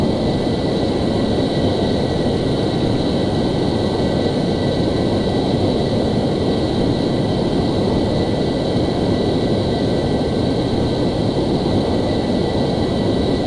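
An F-14 jet's engines roar continuously in Microsoft Flight Simulator X during low flight over Turkey, a loud, steady whine and rumble with no talking.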